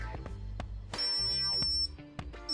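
A stud finder gives electronic beeping with sustained high tones and short chirps, fairly close, starting and stopping over a few seconds with no voices.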